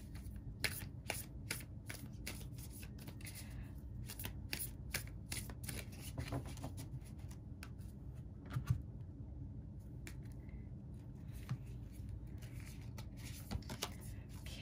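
Tarot spell cards are shuffled in a steady run of quick riffling flutters, close and crisp, with short pauses between bursts and no talking.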